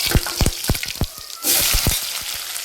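Sliced onion frying in oil until reddish for a spinach besan dish, with close sharp popping crackles spaced irregularly, then a denser steady sizzle hiss taking over midway, no speech.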